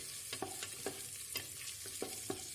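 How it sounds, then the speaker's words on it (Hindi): A spatula stirring tomato into fried ginger and garlic in a pan, rhythmic scraping strokes about every half second over a faint low sizzle, quiet and close. "डाल करके इसको इस तरीके से मिक्स करेंगे।"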